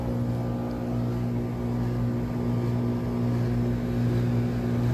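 An AC condenser fan motor on a new Carrier 10-ton split system runs steadily with a loud, constant hum and whir, a motor drone with no voices.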